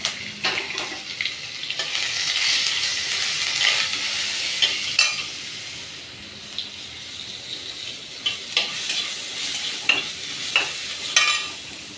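Cumin, curry leaves and garlic frying in a pan, a steady close sizzle with occasional clicks and stirring scrapes rising above it.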